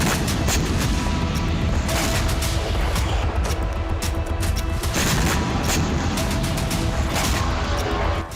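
Dense, continuous rumbling with repeated booming bursts, explosions and gunfire during attacks on Taman port in Russia, going on for several seconds without a break.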